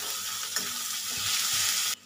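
Spices, onion, ginger and garlic fry in a hot pan with a steady, close sizzle and a few soft stirring scrapes, cutting off abruptly near the end.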